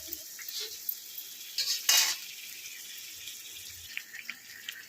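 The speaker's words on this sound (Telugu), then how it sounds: "ఇవి మళ్ళీ వేయిస్తున్నాను ఇక్కడ" Food is fried again in a pan while being stirred, giving a quiet, steady sizzle with scattered scrapes and one brief louder rush of hissing, and no voices.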